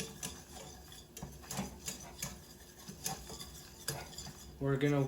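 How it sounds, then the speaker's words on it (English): A whisk scrapes and clinks steadily against a pot as flour is whisked into hot oil over medium-high heat to make a roux, soft and close, with a brief louder rattle at the end. "we're just going to whisk in the flour to make a roux"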